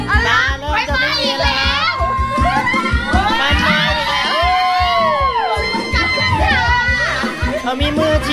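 Excited crowd at a ramwong dance party on a Khao Kho trip, shouting and cheering loudly throughout with children's voices and chatter mixed in, dense and close.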